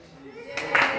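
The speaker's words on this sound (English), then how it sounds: "Is anybody gonna clap?" A few people clap twice in short, close bursts in a room, after a quiet stretch with faint voices.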